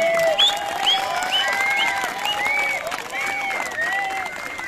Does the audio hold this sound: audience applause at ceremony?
yes